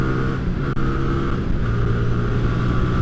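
A 2022 Hyosung GV300S motorcycle engine drones steadily at speed on the road, with a brief dip as a gear change catches, under constant wind noise.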